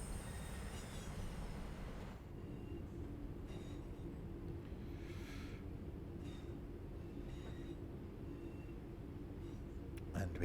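A commuter train runs steadily in the Train Sim World 3 game on the Birmingham Cross City line, a continuous loud low rumble with a faint high squeal near the end.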